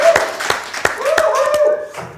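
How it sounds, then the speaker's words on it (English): A small group claps at the close of a talk, sparse and evenly spaced handclaps over a couple of seconds, with a faint voice underneath. "I'd like to end here with a big applause to you"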